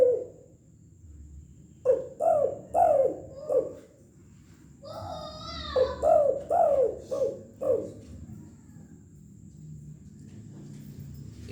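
A voice imitates the call of a burung balam dove, giving a series of about four rhythmic cooing notes, a brief pause, then another run of five or six coos, close and fairly loud.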